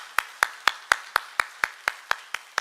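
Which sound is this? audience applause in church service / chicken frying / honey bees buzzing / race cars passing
audience applause in church service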